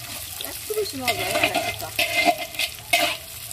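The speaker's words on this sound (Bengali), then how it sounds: "এই তেলটার মধ্যে ডালটাকে খুব ভালো করে ভাজতে হবে" Half a kilo of moong dal frying in oil, stirred through with a steady sizzle and scraping strokes of a spoon against the pan, close and fairly loud.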